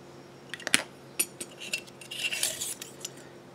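Light metallic clinks and taps from handling a titanium Evernew alcohol stove and its stand, a few sharp isolated knocks followed by a cluster of small rattling contacts, close and fairly quiet.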